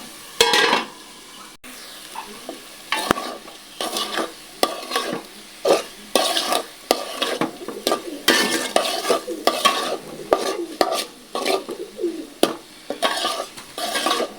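A spatula scrapes and stirs vegetable curry in a frying pan, giving repeated bursts of scraping and clattering against a steady low sizzle, close and fairly loud throughout.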